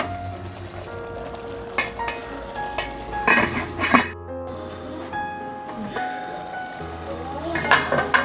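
Lentil curry cooking in a pot on the stove, with steady low simmering and sizzle broken by several clinks of a utensil against the pot and some brief talk in the background.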